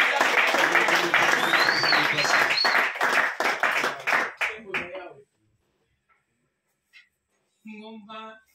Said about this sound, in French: nous allons acclamer pour la gloire de Dieu